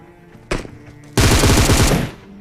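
Automatic gunfire from a battle-royale shooting game's anniversary event mode: a single sharp shot, then a loud sustained burst of rapid machine-gun fire lasting over a second, close and alone with no talk.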